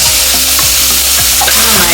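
Ground tomato paste hits frying onions in a hot pan, bursting into loud, close sizzling with a steady hiss and scraping stir strokes of a spoon.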